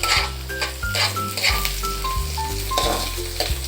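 Garlic and onion hit a hot pan while fresh mussels are being cooked, a steady loud sizzle with clinking stirs and scrapes running throughout, no talking.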